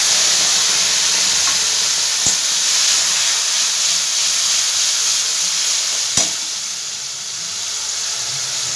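Tomato paste hisses and sizzles steadily in a hot pan for dhaani aalu kosha, a loud, even frying sound with a couple of faint clicks of a utensil.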